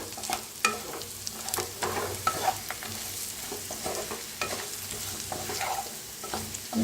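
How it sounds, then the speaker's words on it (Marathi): Brinjal pieces being stirred into roasted masala in a pan for a rustic stuffed eggplant dish, with steady sizzling frying and repeated scraping stirs and clinks of a spoon throughout, close and moderately loud with no talking. "ह्याच्यातच टाकूया आपण वांगी. मिक्स करून भाजून घ्यायची."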